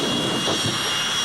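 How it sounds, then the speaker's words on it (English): A jet dragster's afterburner at a drag race roars continuously, a loud, broad, rushing jet blast with no pauses, filling the whole short stretch. "The rubber is glowing red from Casey Jones' afterburner"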